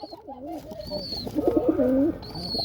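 A pair of courting pigeons coo close by in a soft, rolling, repeated burble, with a few thin higher calls over the top.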